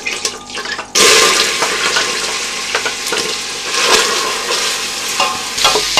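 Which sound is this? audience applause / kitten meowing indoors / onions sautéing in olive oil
onions sautéing in olive oil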